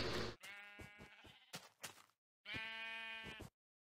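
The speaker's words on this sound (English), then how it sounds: "I found another sheep" Sheep in the Minecraft video game bleat three times, each a loud, close, quavering call; the first two are brief and separated by scattered clicks, and the last is longer, with no talking over them.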